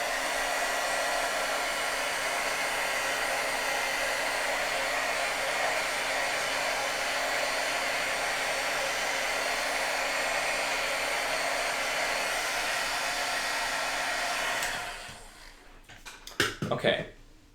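A craft heat tool blows a loud, steady whoosh for about fifteen seconds while warming Distress Oxide ink on paper, then cuts off, leaving a few faint clicks and handling sounds.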